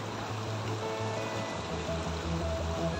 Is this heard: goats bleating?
no